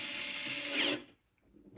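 A power driver tightening screws on a FoxAlien XE Pro 8040 CNC router control board, a steady close whirring that rises, then cuts off abruptly into near silence.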